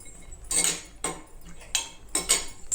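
Cashews tipped into hot ghee in a cooking pan, giving bright metallic clinks and scrapes of a utensil against the pan in several short bursts.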